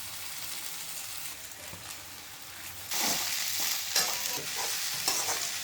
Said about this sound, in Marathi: आता त्याच्यात भिजवलेले हे पोहे हे घालवून घेते